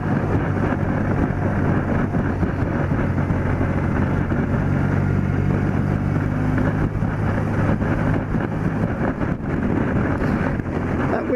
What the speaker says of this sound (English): That wind's a bit vicious